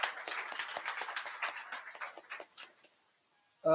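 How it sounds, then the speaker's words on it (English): A small audience at an inspirational talk gives a short round of applause, uneven crisp hand claps that thin out and stop, followed by a voice starting up. "Please give him another round of applause"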